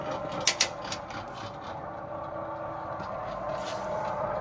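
A transparent cutaway car engine with torque converter, restored from a rusted flood wreck, is turned by hand so its crankshaft rotates, giving a soft mechanical whir with a couple of sharp clicks early on, quiet and close.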